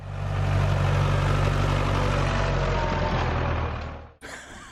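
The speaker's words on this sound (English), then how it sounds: "did you see the tractor pulling the speedboat?" An old tractor engine pulling a speedboat along a coastal road, a loud steady low rumble that holds for about four seconds before cutting off abruptly, followed by a brief faint knock.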